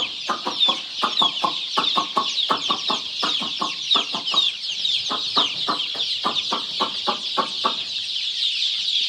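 A flock of free-range village chickens clucking in rapid, repeated bursts, busy and close, with a steady high chatter of many birds filling the background.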